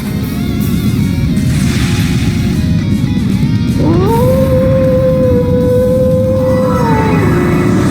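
Wolf howl in the video game Trails into Reverie, a long rising then sustained howl over a loud, dense rumbling background of game noise.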